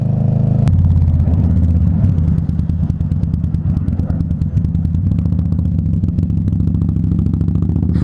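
Road traffic rumbles close by as an idling motorcycle engine churns steadily, with a low continuous drone and clattering texture throughout while riding through congestion.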